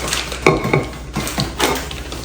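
Metal lid clanks and scrapes onto a new kadhai cooking pan, with a few close, sharp knocks and rattles in quick succession.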